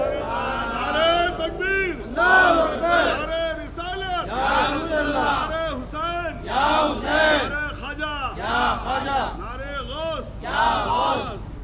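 A crowd at a Shia religious gathering (jalsa) for Imam Hussain chants slogans together in loud, rhythmic, repeated call-and-response bursts that stay steady and dense throughout.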